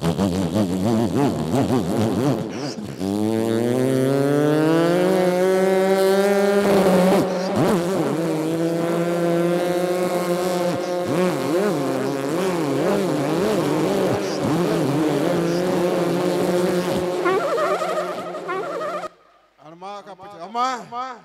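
A voice imitates a motorcycle engine, a buzzing, revving drone that rises and falls in pitch for a long stretch before trailing off.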